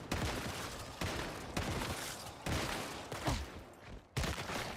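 A shotgun firing in Once Human, several loud, booming blasts spaced roughly a second apart, each with a sharp onset and a short decaying tail, heard alone and up close.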